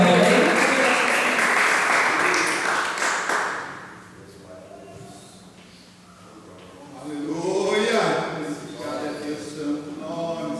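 A church congregation at a family worship service applauds for about four seconds, a dense close clapping that fades out, followed by someone speaking and then singing or calling out.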